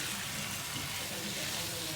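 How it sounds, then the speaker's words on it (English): Chicken bhuna sautéing in a pan, a dense steady sizzle with soft crackling and stirring, close and continuous. "So we will saute this for like 2 minutes or so"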